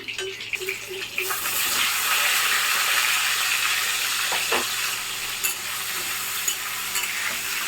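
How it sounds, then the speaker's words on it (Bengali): Cauliflower florets fry in hot oil in a pan, a dense steady sizzle rising loudly after a brief quieter start, with occasional stirring scrapes and clinks and no talking. "তো এখন হচ্ছে ফুলকপিগুলো ভেজে নেবো। তুলে দেবো, তারপর আলু"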